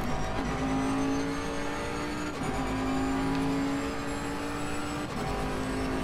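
A race car in the video game Assetto Corsa Competizione drones loudly and steadily at high revs, with brief dips where gears shift as it slows through a chicane and no voice over it.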